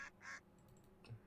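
Ducks quacking in the video game Cell to Singularity, two short quacks followed by a softer third, faint under a quiet game background.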